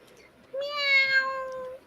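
A cat gives a single drawn-out meow, clear and fairly close, rising out of a quiet room with nothing else around it.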